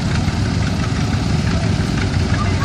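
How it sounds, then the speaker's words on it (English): A vintage 10-horsepower Bolin K10 articulated two-wheel-drive lawn tractor engine runs at a steady idle at a tractor parade, with a continuous, close, low rumble and no pauses. "It's a Bolin K10 articulated tractor."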